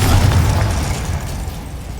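A Confringo explosive spell bursts with a loud, low, rumbling boom in the Hogwarts Legacy video game, its blast decaying over about two seconds with no talk heard.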